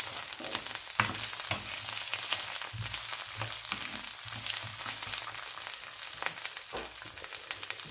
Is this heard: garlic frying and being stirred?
yes